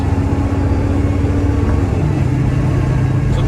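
A 1970 Chevrolet Chevelle Malibu V8 with a Turbo 350 transmission runs at highway speed, a loud, steady engine drone and road rumble with a slight shift in pitch partway through as it kicks down and changes gear.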